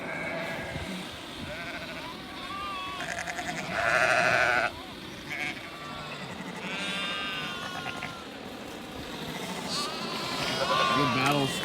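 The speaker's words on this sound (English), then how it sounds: "Look at these sheep though." A flock of a couple hundred sheep bleat repeatedly on a farm, several distinct wavering calls near and farther off, with people talking in the background and a light breeze.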